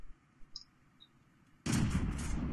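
A German VK 30.02 M tank gun firing in World of Tanks, heard as one sudden loud blast that rolls on with a heavy, sustained rumble after a quiet stretch.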